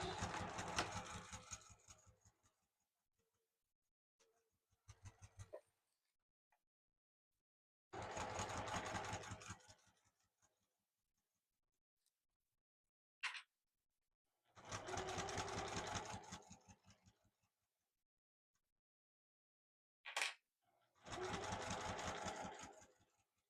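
Sewing machine stitching vinyl with flannel backing for a car document case, running in four steady bursts of a few seconds each, separated by quiet pauses and a couple of short clicks.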